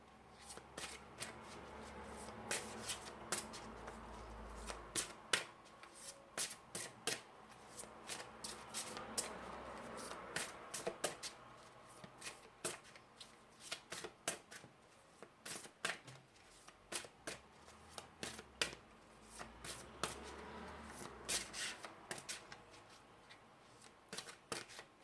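Angel tarot cards being shuffled by hand for a long stretch, soft close papery riffles and slides in irregular bursts, quiet and continuous with no talk.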